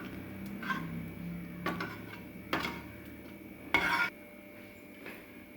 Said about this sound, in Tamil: தக்காளி, உருளைக்கிழங்கு, பச்சை பட்டாணி, காலிஃப்ளவர் நல்லா நசுக்கிக்கோங்க.